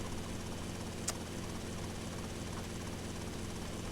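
A helicopter in the video game GTA Vice City gives a steady, droning engine and rotor hum throughout, continuous and even in level with no speech over it.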